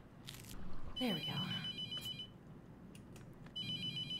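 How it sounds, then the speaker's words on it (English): A telephone rings inside a horror game set in a mortuary, its electronic trill coming in two bursts with a short gap, while a voice talks over the start. "The phone is ringing."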